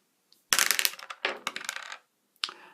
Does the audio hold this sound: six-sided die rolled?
yes